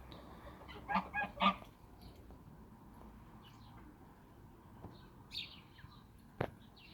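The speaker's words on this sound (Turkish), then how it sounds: "Pis kazlar." A few short domestic goose honks in quick succession near the start, then quieter background with a faint call or two later.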